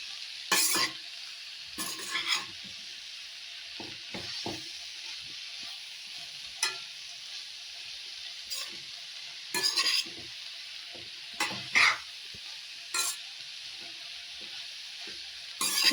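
Spring onion greens being stir-fried in a pan: a soft, steady sizzle broken by irregular scraping and clanking strokes of a spatula, close and moderately loud.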